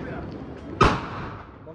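A sky shot firework launches with one sharp, loud bang midway, its tail fading out over the next second against a quiet outdoor background.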